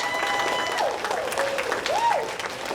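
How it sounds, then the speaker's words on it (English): Audience clapping for grade-level reading winners at a school reader's tea event, a steady wash of applause throughout the short stretch, with a faint whistling or cheering voice gliding over it. "let's clap it up for our grade level winners"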